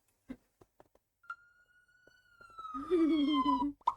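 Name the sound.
fire engine siren in GTA video game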